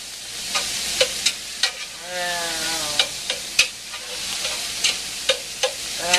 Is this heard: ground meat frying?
yes